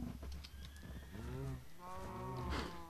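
A cow in the SurvivalCraft video game lets out several drawn-out, low moos in quick succession, loud and close with a tonal, slightly synthetic quality, with no other voices over them.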